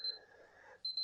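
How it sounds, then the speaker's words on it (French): An alarm clock beeps in short, high electronic bursts, once at the start and again near the end, with a quieter tonal hum between them. "Je me suis mis une petite alarme effectivement pour pas trop vous saouler"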